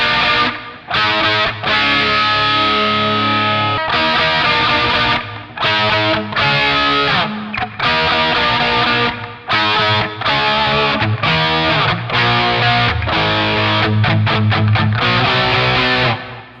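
Heavily distorted electric guitar with boosted lows and a slight midrange lift, playing a riff in loud, rhythmic chugs and sustained chords separated by short stops.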